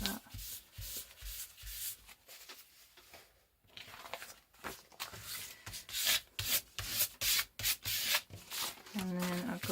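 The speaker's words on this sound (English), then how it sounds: "A bit of excess glue on there, just wipe that." Excess glue being wiped off paper while assembling a journal, heard as soft, close rubbing and brushing strokes in irregular bursts, with a brief quiet pause partway through.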